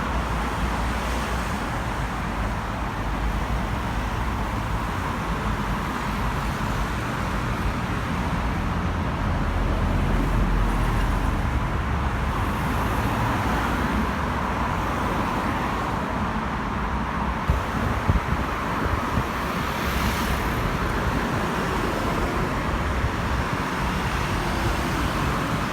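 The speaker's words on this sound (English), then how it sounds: "Six lanes of traffic." Dense traffic roars along a busy six-lane road in Korea, a continuous loud wash of passing cars and engine noise with wind buffeting the microphone.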